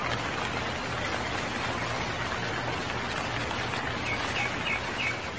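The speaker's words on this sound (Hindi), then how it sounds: "बारिश शुरू हो जाती है।" Steady rain falling in a cartoon scene, a constant broadband hiss with light bird chirps and insect-like calls faintly above it, no voices.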